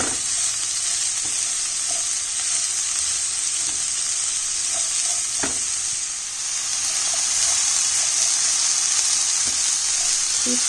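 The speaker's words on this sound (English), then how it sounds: "you have to stir fry these for 4 to 5 minutes" Chopped vegetables and peppers for chicken spring rolls sizzle steadily in a hot pan, with a constant frying hiss and occasional soft stirring scrapes, close and continuous throughout.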